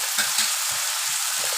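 Coriander powder hits a sizzling egg curry masala in a hot pan, giving a steady close frying hiss broken by soft, irregular stirring scrapes.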